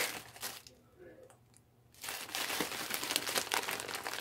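Pokemon card packaging crinkles and tears open up close, a loud sustained rustle of foil and plastic after a brief quieter pause, with a voice speaking nearby.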